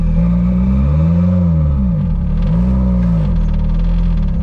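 A Renault Maxi 5 Turbo engine revs loud and close during a hill start, its droning note rising and falling in two sweeping swells over a continuous rumble.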